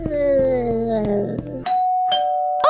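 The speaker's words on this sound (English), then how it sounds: "Oh, someone just rang the doorbell." Electronic doorbell chime in the Roblox game Brookhaven, a loud two-tone ding-dong up close, followed by a second short tone, with no talking.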